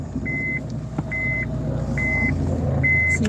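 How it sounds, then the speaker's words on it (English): A car slowly backs into a home garage while a reversing alarm gives four evenly spaced steady beeps over a low, continuous engine rumble. "trying to back in the car"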